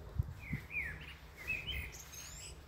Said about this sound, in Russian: Тут можно релакс-видео снимать без звука, потому что птицы поют просто потрясающе